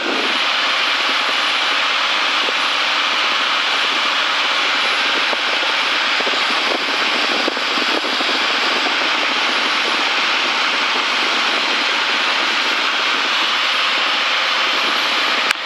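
A light aircraft's engine drones steadily and loudly in the cockpit during approach to Archerfield runway 04 right, a continuous broadband roar with no breaks across the whole stretch.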